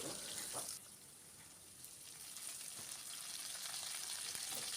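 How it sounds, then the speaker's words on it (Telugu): Cumin, garlic cloves and finely chopped onion fry in a pan with a steady, close sizzle and crackle, sounding alone without any talk for the whole stretch. "5-6 వెల్లుల్లి రెబ్బలు, ఒక మీడియం సైజు ఉల్లిగడ్డ చిన్న ముక్కలుగా కట్ చేసుకొని వీటిని దోరగా వేయించుకోవాలండి"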